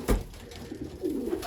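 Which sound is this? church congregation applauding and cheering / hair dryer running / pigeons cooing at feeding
pigeons cooing at feeding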